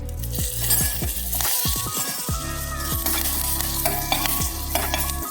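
Curry leaves crackle in hot oil for a tempering in a drumstick fry, a bright sizzle punctuated by repeated metallic clinks and scrapes of a spoon stirring the pan up close.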